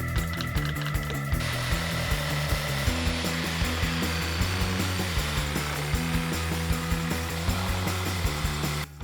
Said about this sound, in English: We're gonna grab a jigsaw, cut it out